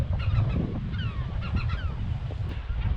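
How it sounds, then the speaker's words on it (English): Gulls and other seabirds call over a small, sparsely vegetated island nesting colony, with overlapping cries and honking calls rising above steady low wind rumble throughout. "People might think there's a lot of gulls around here, and we do got a lot of gulls around here"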